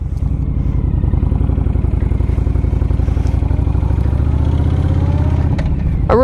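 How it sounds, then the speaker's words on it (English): A Honda VTX motorcycle rides on a tree-lined road, its engine a loud, steady, low throbbing pulse close to the microphone throughout, with wind rush over it. "let's see how this bike really runs"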